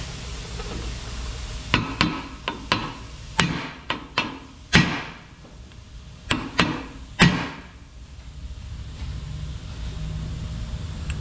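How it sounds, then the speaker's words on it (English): Hammer tapping a part into place during a driveshaft rebuild on a Ford F-350 7.3 Powerstroke 4x4, about a dozen sharp metallic knocks in irregular bursts, close and loud, with quieter shop noise between. "I'll give it some more tappy taps."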